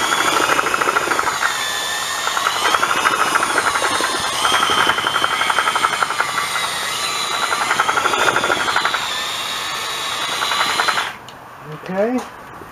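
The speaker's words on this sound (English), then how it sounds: "Gotta have a powerful drill for this." A powerful drill roars steadily for several seconds, its pitch wavering as it churns thick tile mortar, then cuts off into quieter rustling.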